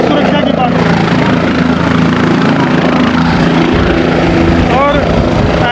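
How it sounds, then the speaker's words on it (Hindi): A helicopter lifting off at an outdoor event, a loud continuous rotor roar and rushing wind filling the whole stretch, with crowd voices mixed underneath. "जब हेलीकॉप्टर उड़ा है तो पूरा तूफान खड़ा कर रहा है"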